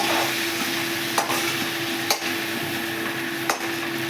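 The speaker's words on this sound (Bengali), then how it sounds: "এই গরম তেলের মধ্যে আমি এই চিংড়ি মাছগুলো ছেড়ে দিচ্ছি ভাজার জন্য" Prawns sizzle in hot oil in a pan, a steady bright frying hiss with a few clicks from utensils, with no talking.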